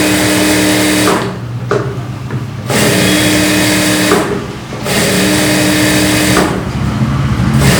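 A tailor's sewing machine stitches a blouse with a fast, loud mechanical whirr, running in several stretches broken by short pauses.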